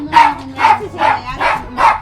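Dogs around a rural house bark in a quick series of five sharp, loud barks, evenly spaced and close by.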